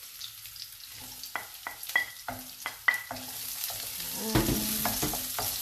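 Sliced onion going into a pan where ginger and garlic are already frying, for a chicken bihon soup; a steady close sizzle with repeated stirring scrapes, growing louder near the end.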